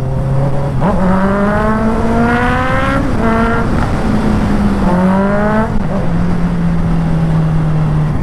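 A 2023 Honda CB650R motorcycle with about 7,000 km on it, its engine revved up and down in rising and falling sweeps over a steady idle, loud and close, with no talking.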